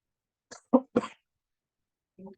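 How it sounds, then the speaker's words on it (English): A few short, sharp coughs close to the mic, bunched together, then a softer fourth after a brief silence. "Sorry, I have a cough."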